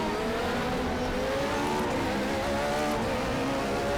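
A Radical race car in the RaceRoom racing game, on the Shanghai circuit, with its engine droning steadily and loudly under power, holding a high, buzzing pitch that wavers slightly without any pause.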